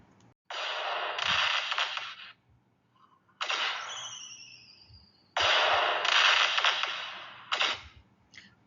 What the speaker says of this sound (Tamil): பட்டாசு வெடிக்கும் சத்தம்.